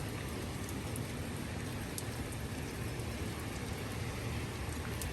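Steady rain pours down in Muscat, a dense, continuous hiss of drops on the ground that stays even throughout with no voices.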